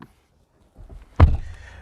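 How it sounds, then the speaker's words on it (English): A 2020 Kia Xceed door pulled shut from inside the cabin, a single solid close thunk after some faint shuffling of someone settling into the seat, followed by a brief muffled rattle. "close the door"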